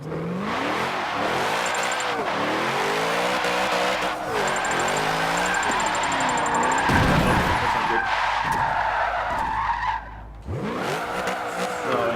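A 1994 Nissan Silvia K's with a swapped-in V8 drifts in Forza Motorsport 7. The engine howls and bends in pitch through sustained revs while tires squeal and skid continuously. Near the end the engine briefly drops off, then picks up again.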